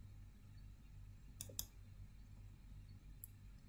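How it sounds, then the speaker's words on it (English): A couple of sharp computer mouse clicks in a quiet room with steady low hum, a close pair near the middle and another single click later, while setting up equal-width binning in SPSS. "and click apply"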